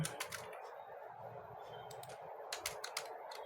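Quick, light keystrokes on a computer keyboard, close and soft, tapping in irregular bursts of clicks over a low steady background hum, with no talking.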